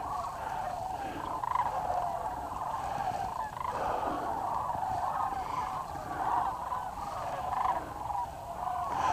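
A dense flock of birds chirps and calls continuously at a distance, a steady chattering chorus with no pauses.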